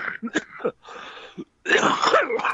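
A few rough coughs and throat-clearing bursts close by, broken by short pauses, ending in a longer harsh, raspy hack.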